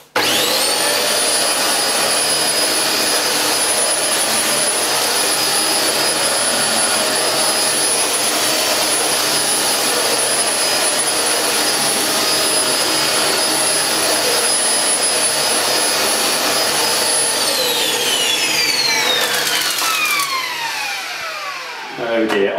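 A Hoover Globe Eco G bagless upright vacuum cleaner runs loud and steady with a high motor whine, holding constant for most of the stretch before its pitch drops as the motor winds down near the end.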